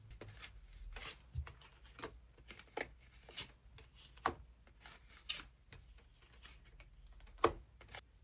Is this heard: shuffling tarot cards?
yes